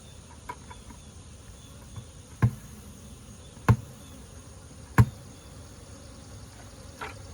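A steady buzz of many bees hums continuously at moderate level, with a few sharp clicks or knocks breaking through at intervals.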